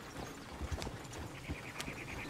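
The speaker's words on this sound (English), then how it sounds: "Is one of you gonna get that fella's horse?" Horse hooves clip-clop in Red Dead Redemption 2, a few soft, fairly faint irregular hoof knocks over a low rumbling game background.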